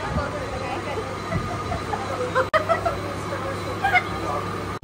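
Continuous rumble and rattle inside a moving train, with muffled voices and babble mixed in and a couple of brief dropouts.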